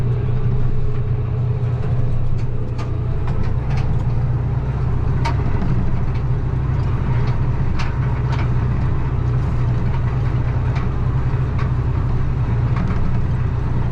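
A 320-horsepower tractor engine working a dry-topped, moist field drones loud and steady in a deep continuous rumble, with scattered rattles and clanks of machinery over it and no talk.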